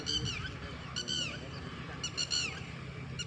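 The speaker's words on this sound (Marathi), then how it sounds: "पक्षी कसा ओरडतो." Honking bird calls, goose-like, sound in short repeated bursts in a park during rainy weather, with steady rain-like noise underneath and no talking.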